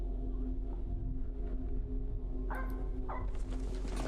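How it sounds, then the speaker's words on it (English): Dog barking in the horror video game Supernatural, sitting in the distance under a steady droning ambience and heard as a couple of short bursts. "I think this is the closest I can hear the dog"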